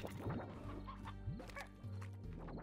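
A stony hen from the Slime Rancher video game clucks in short, repeated bursts with rising squawks, close and moderately loud over a low game background hum.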